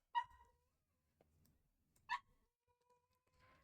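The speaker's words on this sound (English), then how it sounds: "I wonder if now you can hear my dogs." Two short yips from dogs heard in the room during a stream of the game Tiny Bookshop, separated by about two seconds, moderately close and otherwise quiet apart from faint clicks.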